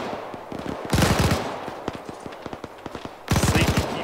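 Rifle and machine-gun fire in an Arma trench fight comes in close, loud bursts of rapid shots, with heavier volleys at about one second and again near the end and sparser single cracks in between.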